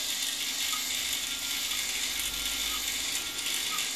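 A small servo motor on a robot drives the camera height adjustment, producing a continuous close mechanical whirr with a fine ratcheting, gear-like texture throughout and no talking.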